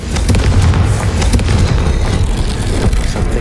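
Loud, continuous blasting from the Confringo spell in the Hogwarts Legacy video game, a dense rumbling explosion with crackling bursts sustained throughout, no talk.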